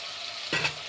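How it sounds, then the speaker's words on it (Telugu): Chicken frying in a pan with garam masala and spices for haleem, a short soft sizzle with a brief stirring scrape partway through, close and steady, no voices. "ఇంకా ఫ్రై చేయాలి. మొత్తం మసాలాలన్నీ కూడా చికెన్కి పట్టించుకోవాలి."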